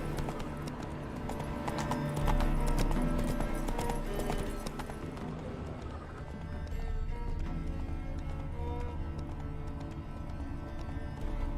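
Roach the horse's hooves gallop in steady, rapid clip-clops through The Witcher 3, the drumming sustained and fairly loud under a dense layer of in-game music and ambience, with no speech.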